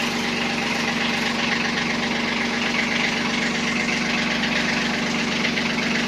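A Kubota Aste A15 tractor engine idles steadily while warming up after standing a long time, with a loud, even diesel rumble and a constant hum throughout and no talking.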